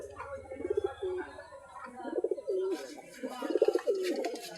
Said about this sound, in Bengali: এক ঘরের মধ্যে 3টা কবুতর একসঙ্গে থাকে, এক জোড়া বাচ্চা থাকে